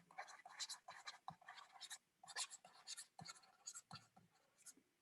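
Pen or marker writing notes during a physics lecture on electrical potential difference, heard as a run of short scratchy strokes in bursts with brief pauses, close and fairly clear, with faint whispery voice traces.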